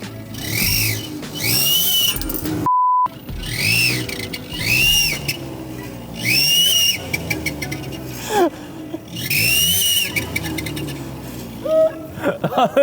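A car turbo whistle gadget gives repeated rising, high-pitched whistles over engine rumble, with a brief pure tone and some laughter near the end.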